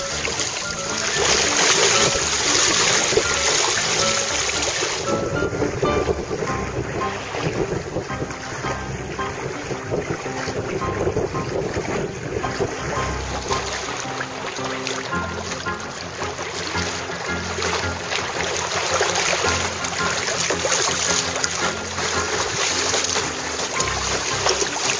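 Sailboat moving through choppy water near a channel buoy at the edge of the Atlantic Ocean, with continuous water rush, wind buffeting the microphone and a faint steady high tone, loud and unbroken.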